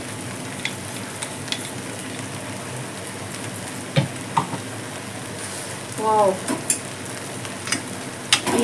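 Coconut masala sizzling and frying in a pan with chicken for a chicken fry masala, with a steady hiss and clicks of a spoon stirring. One short exclamation comes over the frying partway through.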